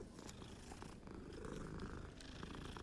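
A cat purring while being petted in the game Hogwarts Legacy, a continuous low rumbling purr with a steady pulsing rhythm, close and fairly quiet.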